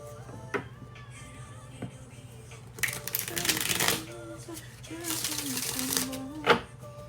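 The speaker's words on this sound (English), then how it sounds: "one last shuffle" Tarot cards being shuffled by hand, two bursts of riffling and sliding card noise close to the mic, with a faint steady hum and some quiet vocal sounds around them.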